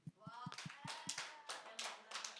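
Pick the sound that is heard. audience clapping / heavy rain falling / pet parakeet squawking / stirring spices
audience clapping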